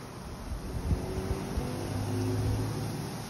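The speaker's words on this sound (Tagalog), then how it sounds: "Naghangin tuod no? Hangin kaayo." Strong wind buffets and rumbles against the microphone in low gusts, with a faint engine-like hum underneath.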